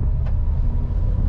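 A Renault Clio 4 RS engine in sport mode gives a loud, steady low rumble heard from the car, with no speech over it.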